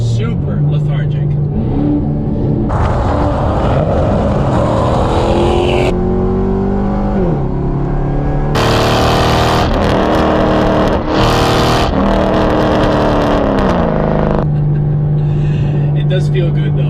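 Car fitted with the L99 automatic transmission, a 5th-generation Camaro, driving under load, its engine droning and rising in pitch through gear changes, loud and close throughout beneath a speaking voice.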